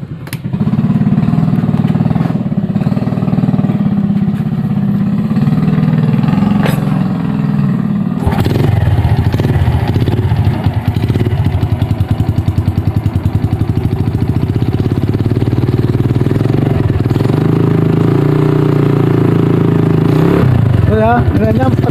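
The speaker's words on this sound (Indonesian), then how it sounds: "akan saya hidupkan motornya" A Honda Vega R motorcycle engine runs loud and close, idling with a steady throb, then the throttle rises to a higher, rougher rev partway through, with a brief voice near the end.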